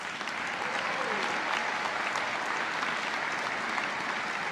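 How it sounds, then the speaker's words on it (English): A large audience at a diversity breakfast in a convention center ballroom gives sponsors a sustained, dense round of applause, loud and even throughout with no break. "Let's give them a huge round of applause, please."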